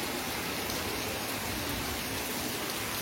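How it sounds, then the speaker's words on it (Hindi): Heavy rain pouring down steadily, a dense continuous hiss at constant loudness with no breaks and no voices. "बहुत जोर से वर्षा हो"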